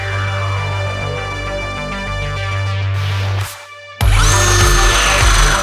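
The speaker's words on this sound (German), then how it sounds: "you can press fittings in just 3 seconds, safely and effectively." A ROMAX COMPACT III press tool presses a pipe fitting, giving a loud close motor whine that stops briefly and then restarts with a strained, rising mechanical drone.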